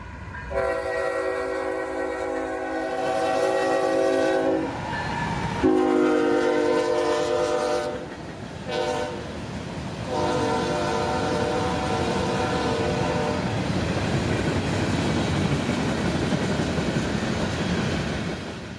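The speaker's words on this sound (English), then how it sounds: "More GEVOs on this Waycross to Winston mixed freight, hauling phosphate empties, rock loads, and some box cars" A freight train horn from GE GEVO locomotives sounds in long, loud blasts, then gives way to the steady rumble and clatter of mixed freight cars rolling past in Folkston, Georgia.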